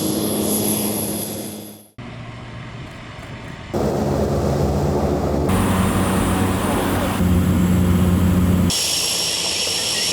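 Small propeller airplane at Kihi Airport on a Tanzania safari, a loud continuous engine drone that cuts out abruptly, then returns in changing steady blocks of hum and roar with no talking.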